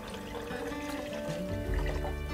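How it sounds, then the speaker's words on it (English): Water is poured from a tap into a flower vase, making a steady, close splashing trickle whose pitch rises as the vessel fills. "I'm just gonna fill my vase with water"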